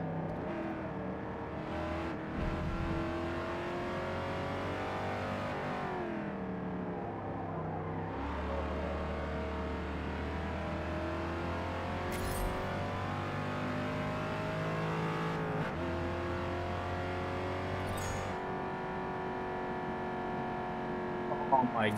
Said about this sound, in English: Oh my god, the noise this car makes.